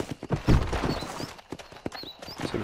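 Horse hooves clip-clopping in Red Dead Redemption, a steady uneven patter of close hoofbeats with a loud strike early on, alongside faint whistling ambience.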